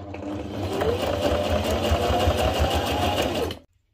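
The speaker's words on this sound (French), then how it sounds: "Je vais coudre à la machine d'abord cette partie là" Sewing machine stitching the fabric parts of a cat or dog basket, a steady continuous whirring hum running close and loud for about three and a half seconds before stopping abruptly.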